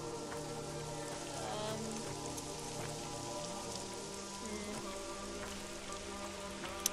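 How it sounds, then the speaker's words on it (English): Steady rain pours down in the video game Pathologic 2, a dense, continuous hiss of drops pattering on surfaces, close and even throughout, with faint background tones and no talking. "the rain is lovely"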